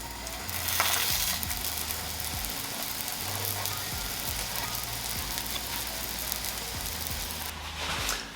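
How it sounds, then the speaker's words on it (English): Vegan McPlant burger patties crisping in a hot pan, a continuous close sizzle with occasional scraping clicks, steady and fairly loud throughout, no voices. "For the last minute, I'm gonna put on the burger patties just to crisp them up a little bit."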